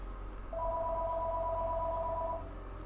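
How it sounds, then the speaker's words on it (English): A nearby telephone rings in one steady electronic tone lasting about two seconds, faint but clear over low background rumble, with no speech. "I am very sorry that stupid phone is ringing."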